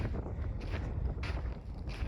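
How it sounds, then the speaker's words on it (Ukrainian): Strong wind blowing over a field buffets and roars in gusts, rumbling low and close, with brief hissy surges rising and falling. "Вітер сьогодні, дуже, щось у нас дуже вітряно."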